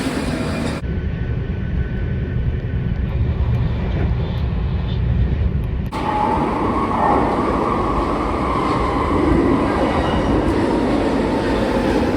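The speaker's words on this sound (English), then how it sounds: "Here it is, final train of the trip." A train runs on rails on the final leg of a trip in Switzerland, near Geneva: a steady, loud rumbling roar fills the whole clip and grows brighter and fuller about halfway through.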